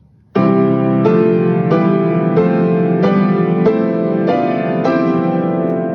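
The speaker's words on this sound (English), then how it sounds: "But if I keep the pedal down all the way through," Piano chords struck about once a second with the sustain pedal held, each new chord ringing into the last and blurring into a dense wash.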